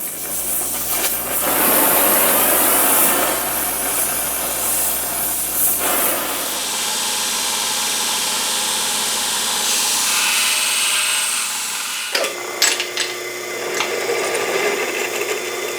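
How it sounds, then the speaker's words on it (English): A torch hisses and roars steadily while brazing a steel tube for the brake pedal of a Briggs & Stratton buckboard flyer, close and loud, with the flame shifting in tone and a few brief clinks near the end. "Now I just need to weld that there. I'm thinking braze."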